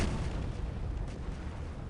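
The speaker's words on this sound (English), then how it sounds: "Explosion sounds so quiet because we're zoomed out." Explosions heard from a zoomed-out view in the strategy game Earth 2150 rumble low and muffled, a faint continuous barrage of distant booms with no talk.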